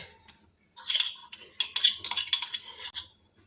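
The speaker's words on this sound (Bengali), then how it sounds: "এটাকে একটু নাড়িয়ে হাতা দিয়ে নাড়িয়ে নিলাম" Ginger paste being stirred into spinach in a kadai with a ladle, heard as quiet, irregular metallic scrapes and taps against the pan in short clustered bursts.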